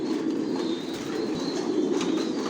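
Several Janssen-line racing pigeons in a loft coo softly and continuously. Their low, overlapping burbling is layered with faint chirps, and no one speaks.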